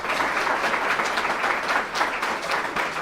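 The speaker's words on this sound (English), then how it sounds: "Can you please join me in giving them a round of applause?" An audience at a university forum on the Super Tuesday primaries gives steady, dense applause that carries evenly for several seconds, with no one speaking over it.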